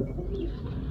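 A pigeon coos in a low, soft rumbling throb, close by and steady over a quiet background, with no talk.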